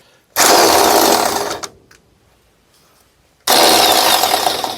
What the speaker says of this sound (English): Let's get the electric impact. This will take tires off, or wheel nuts I should say, without too much problem.